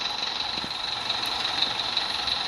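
A truck in a truck simulator video game idles in a garage as the handbrake is released, a steady engine drone with a high whine and faint hiss, continuous and moderately loud with no talk.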